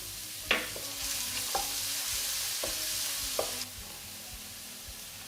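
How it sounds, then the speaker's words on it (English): Garlic fries over medium heat in oil in a hot wok, a steady even sizzle with a few sharp spatula taps against the pan. "Add the garlic. On medium heat, fry until fragrant."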